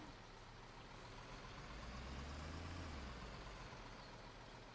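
A truck engine rumbles low and steady in Construction Simulator 2015, faint and distant, with a slight rise in the drone partway through and no talk.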